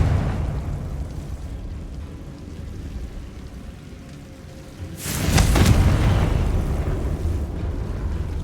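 The Confringo spell goes off in Hogwarts Legacy as a blast halfway through, loud and close. A deep, roaring eruption cuts through a steady rumbling backdrop and trails off into ongoing noise, with no voices.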